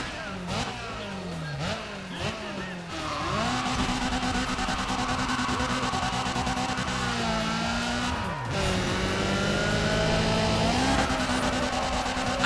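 Nissan 240SX race car engine in Need for Speed ProStreet, a loud sustained engine drone with pitch rising and dropping through gear changes, and tire squeal mixed in.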